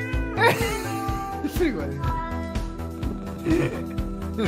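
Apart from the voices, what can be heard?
cat meowing in a played cat video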